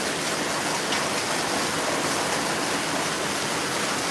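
Heavy rain mixed with hail pours down in a dense, even hiss that stays loud and constant throughout, with no voices.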